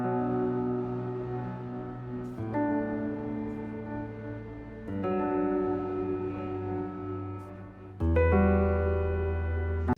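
Soft sustained chords washed in lush ambient reverb from the Spacer multi-effect plugin with the mix fully up, changing every couple of seconds with a hazy, airy tail.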